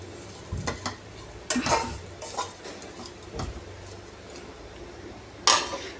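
Bitter gourd fries in a pan with a soft, steady sizzle while a spatula scrapes and taps against the metal in sharp, irregular clanks; close and fairly loud, with no voices.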